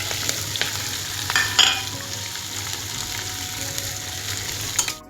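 Sliced onion and green chilies hiss in oil tempered with cumin, dried red chili and a bay leaf. The close, steady sizzle carries a few clinks and scrapes of stirring and a low hum underneath.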